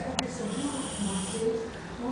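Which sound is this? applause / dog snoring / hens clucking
dog snoring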